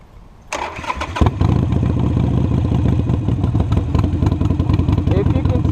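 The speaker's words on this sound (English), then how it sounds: "I'm going to crank the bike up and watch my hands, watch my throttle" A motorcycle engine cranks and catches after about a second, then settles into a loud, steady rumbling idle with clattering mechanical detail, close by, with no talk over it.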